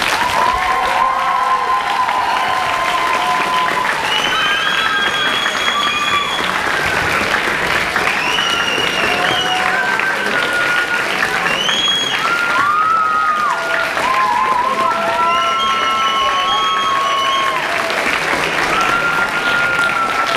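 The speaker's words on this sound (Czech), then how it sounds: "A ještě jednou si hrozně moc mega zatleskejme." Sustained audience applause with some cheering at the close of a final project presentation event, a dense, steady clapping crowd filling the whole stretch without pause.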